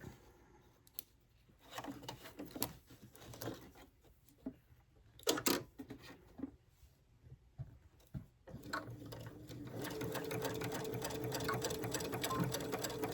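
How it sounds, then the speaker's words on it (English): A sewing machine stitches a collar, starting with scattered clicks and handling knocks, then running in a steady continuous whir for the last few seconds, faint and close. "And then we're going to stitch it."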